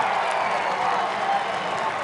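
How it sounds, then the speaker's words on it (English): A lacrosse crowd at a Virginia vs Notre Dame game roars and cheers after a goal, a dense sustained wall of noise filling the short moment without a break. "Oh boy, you hear the crowd?"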